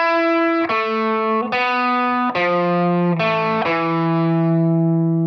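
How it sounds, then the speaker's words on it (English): Electric guitar run through a PRS amp with a light fuzz tone, playing five sustained, harmonically rich notes one after another, each ringing out and decaying, loud and alone. "We're using a PRS amp."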